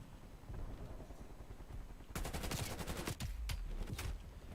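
Explosions and artillery fire from a Lego video game, starting as a low rumble and then breaking into a dense run of sharp blasts and bursts in the second half, loud and without speech.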